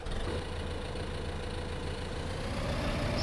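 A tractor engine idles in the video game Farming Simulator 2015, a steady, unbroken low drone with a faint rising whine, no speech.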